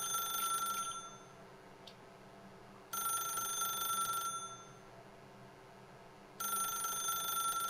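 A telephone rings in The Stanley Parable video game, sounding in two-second bursts of electronic trilling separated by pauses, clear and alone against a quiet room tone.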